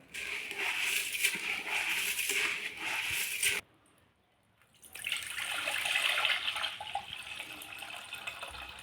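Ration rice is rinsed by hand in water for idli batter, giving a close, continuous swishing and sloshing that stops briefly midway before resuming.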